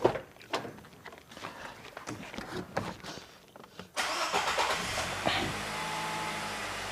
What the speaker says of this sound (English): So I'm gonna start this vehicle back up again.